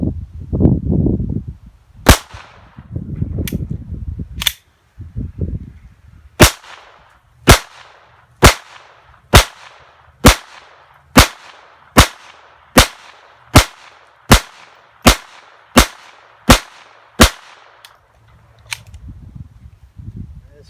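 Taurus TX22 .22 pistol firing Winchester ammunition at 15 feet: fifteen or so sharp, evenly spaced cracks in a steady string, with brief stretches of talking before the shots and after them.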